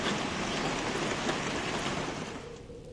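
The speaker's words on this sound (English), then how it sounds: "The rain is stopping." Rain falls steadily in The Glass Staircase video game, a dense, even hiss of drops that fades slightly toward the end as the downpour eases.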